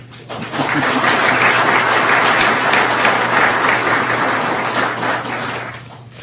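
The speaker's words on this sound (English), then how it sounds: "You can applause now." A crowd of employees breaks into loud, steady applause at a recognition ceremony, many hands clapping together, swelling quickly and then tapering slightly toward the end.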